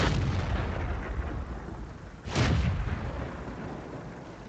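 Short-barrel 88 mm tank gun on a JgPanzer IV tank destroyer firing in World of Tanks: one loud, deep boom midway that fades out over steady, rumbling battle ambience.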